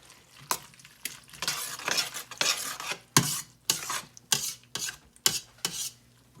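Cheesy cheddar milk sauce being stirred in a pan, a spoon scraping in repeated rhythmic strokes with soft bursts and pauses, close up and fairly quiet, with no talking.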